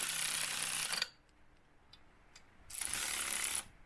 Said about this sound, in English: The power of this Milwaukee ratchet is amazing.